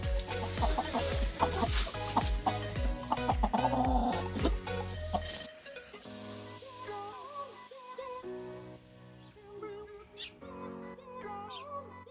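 Chickens cluck and a rooster calls close by, with repeated throaty clucks that soften later into quieter, scattered calls.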